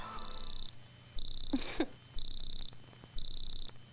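An alarm clock beeps in a Hindi Bollywood film scene, giving four bursts of rapid high-pitched electronic beeping in a steady on-off rhythm, loud and close over a faint background.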